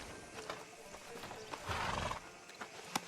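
A horse in Red Dead Redemption 2 gives a clear neigh and whinny midway, with soft hoof clip-clops before and after and a sharp click at the end, all over low ambient game background.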